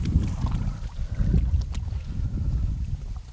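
Strong cold winter wind buffeting the microphone at a reclaimed-land lake during bass fishing, loud gusty low roaring that surges and fades in waves, no voices.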